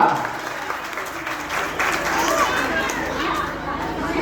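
A theatre audience at a short stage play claps together, a dense patter of applause that swells slightly midway and holds steady over a murmur of voices.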